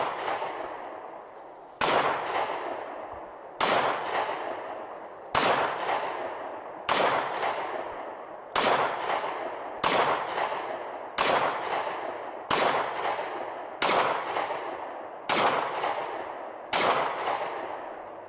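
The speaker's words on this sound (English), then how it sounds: "So let's fire up a magazine with MagGuts and see what it does." Twelve sharp, evenly spaced pistol shots ring out one after another, each with a brief ringing tail, from a Sig Sauer P365 emptying an extended 12-round magazine at a range.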